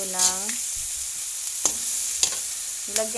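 Tiger prawns fry with sautéed garlic and onion, giving a bright, hissing sizzle broken by a few sharp clanks of a utensil against the pan, with several short tonal squeaks in between and no talking.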